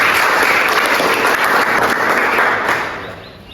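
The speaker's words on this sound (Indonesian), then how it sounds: "Bagus sekali, kita beri aplaus." An audience in a university teaching session breaks into sustained applause, dense, loud and close, trailing off at the end.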